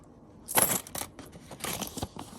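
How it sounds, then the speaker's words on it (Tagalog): Metal yen coins, 168 yen in total, clink and jingle as they drop into a red envelope, a burst of close, bright rattles followed by a few scattered lighter clicks. "ilalagay lang natin sa red envelope itong 168 yen na barya"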